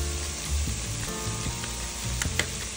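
Chili with white chicken and Mexican street corn sizzles steadily in a pot as chili powder and dried oregano are stirred in, with spoon scrapes and soft knocks over a constant frying hiss.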